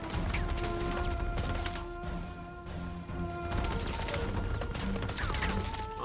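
Gunfire in the video game Uncharted: The Lost Legacy, a dense barrage of shots and impacts against an armored, shielded vehicle, with sharp cracks over a busy rumbling battle mix.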